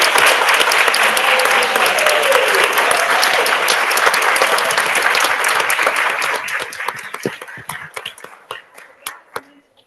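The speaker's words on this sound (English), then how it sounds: "let's give a round of applause to all the women" A council meeting audience applauds the women at a Women's History Month celebration, dense steady clapping that thins into scattered individual claps and fades out.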